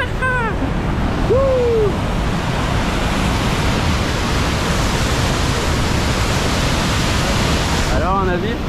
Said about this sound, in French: On est enfin de retour sur la petite cascade de la truite.